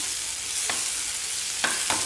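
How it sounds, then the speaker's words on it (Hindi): Okra sabji sizzles steadily in a pan, with a few scraping strokes of a spoon as it is mixed, close and moderately loud, with no talking. "अच्छे से मिक्स कर लेंगे इसको अच्छे से।"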